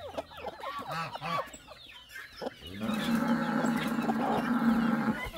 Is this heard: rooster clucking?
yes